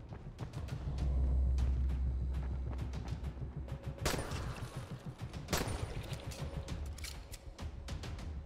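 Rapid, continuous bursts of gunfire in the video game Dying Light crackle throughout, with a couple of louder, sharper shots standing out midway.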